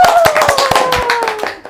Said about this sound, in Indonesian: Bisa tepuk tangan lagi dong.